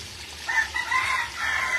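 A rooster crows over a faint steady background hum, its call stretched across most of the short stretch at moderate volume, with a second rise near the end and no voices.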